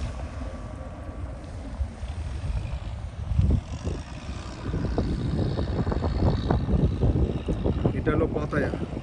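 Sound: boat on the water at Pattaya

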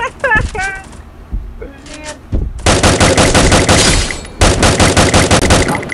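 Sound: gunfire in a shooter video game

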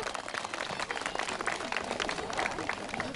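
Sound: applause

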